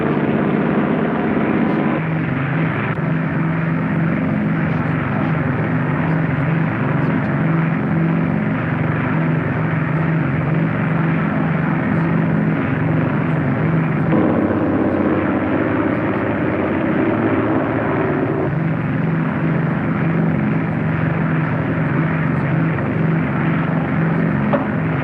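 A propeller airplane on landing approach holds a steady, loud drone throughout, a continuous engine hum with no break or change in level.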